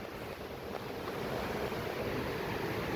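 Steady, broadband rushing of falling water, constant and fairly loud throughout, with no voices.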